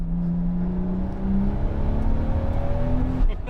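A turbocharged 1994 Mk4 Toyota Supra widebody pulls hard under boost near 4,500 RPM, its engine note rising steadily and loudly over a few seconds before easing off, close up with no talk.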